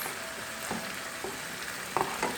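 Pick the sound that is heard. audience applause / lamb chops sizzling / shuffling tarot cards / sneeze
lamb chops sizzling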